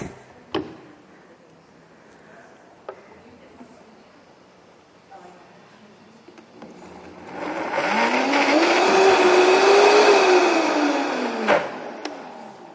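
A kitchen blender whirs through a raisin-based recipe, starting after soft clicks and handling noises, rising to a loud steady roar that slightly changes pitch for several seconds, then cutting off.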